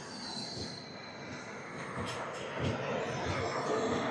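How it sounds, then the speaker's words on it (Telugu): A passenger train overtaking the Krishna Express rolls past with a steady rumbling wash of wheel and carriage noise that swells slightly toward the end, with faint high squeals over it. "మన ట్రైన్ వచ్చేసరికి కృష్ణ ఎక్స్ప్రెస్ ను ఓవర్టేక్ అయితే చేస్తుంది."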